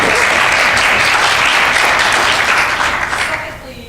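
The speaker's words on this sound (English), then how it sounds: "so round of applause." Loud, dense applause from a classroom audience for students and their teacher, sustained and even before tapering off near the end.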